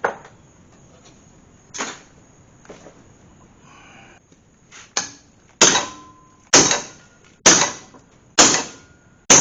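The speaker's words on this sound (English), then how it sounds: "I think good size hammer" A good-size hammer strikes a metal part to bend it during work on a Hemi-swapped Gremlin, a few scattered blows at first, then a regular series of loud, sharp metallic impacts close by, each ringing briefly.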